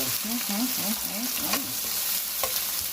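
Chopped onion hits a hot oiled pan with thyme for Nigerian greens vegetable fried rice, giving a loud, steady sizzle with stirring scrapes running throughout.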